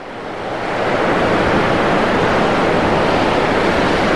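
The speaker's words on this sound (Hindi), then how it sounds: "इस वजह से पानी का बहाव बहुत तेज़, आप देख सकते हैं, ये पानी का बहाव कुछ इस प्रकार है।" Fast-flowing Indus River water rushing near a dam by Alchi village in Ladakh, a loud, steady broadband roar that swells in over the first second and then holds constant, with no voices.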